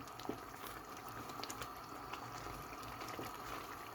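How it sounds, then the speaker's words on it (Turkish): Hot pepper sauce bubbles uncovered in a pot, a soft steady simmer with faint pops and gurgles close by, low and continuous without speech. "Kapağını kapatmadan kaynatmaya devam ediyorum."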